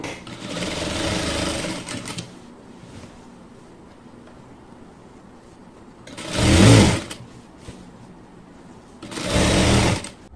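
A domestic sewing machine stitches the folded hem of a nightie in three bursts of steady motor whir, the first long, then two shorter loud runs after a quiet pause, close up with no speech.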